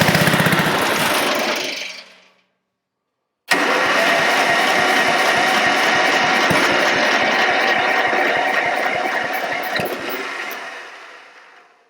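A small engine on a mower or tractor is cranked twice: a short rattling attempt dies away, then after a brief silence a longer, rhythmic, chugging crank that sputters without settling into a run.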